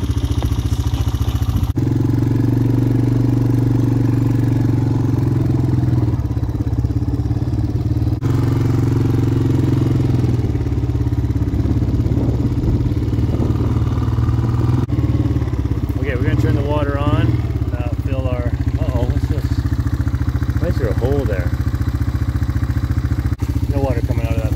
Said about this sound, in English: we're getting the bike out of here because maybe that was it